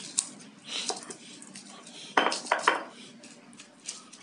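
Garlic, shallots and small and red chilies pounded with a mortar and pestle, giving clattering knocks and scraping clinks at an uneven pace, close by, with a few sharp hits mid-way.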